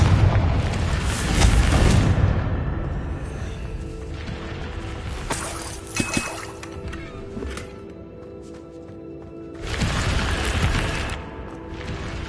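Confringo explosion spells cast in the Hogwarts Legacy video game: loud, deep booming blasts at the start and again near the end, with a quieter rumbling stretch between them.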